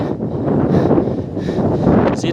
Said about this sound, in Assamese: যিটো এটা ধুনীয়া বতাহ দি আছে ন